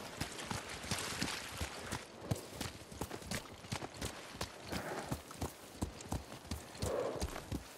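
Steady clip-clop of horse hooves at a quick pace in the video game Ghost of Tsushima, many beats in a driving rhythm, with a brief whinny over continuous background noise.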